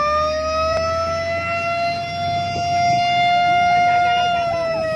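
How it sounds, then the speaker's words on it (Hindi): A fire engine siren wails steadily with a sustained rising and falling tone, loud and fairly close, at a wheat field fire, with crackling and background noise underneath. "यहाँ पे फायर ब्रिगेड मौजूद हो गया है आग बुझाने के लिए"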